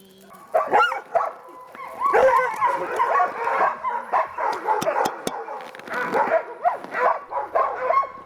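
Several dogs yip and bark in quick irregular bursts, with whines mixed in, fairly close, a lively overlapping chorus at feeding time on snow by a river in Alaska in fall.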